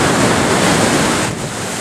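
Steady ocean surf rolls in at a Malibu beach, a loud, continuous wash of waves with wind buffeting the microphone and no voices.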